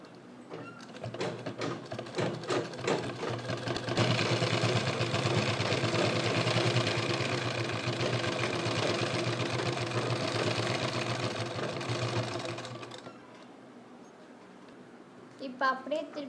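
A sewing machine runs steadily for several seconds while stitching a jute purse, a continuous whirring rattle that starts abruptly and stops, preceded and followed by someone talking nearby.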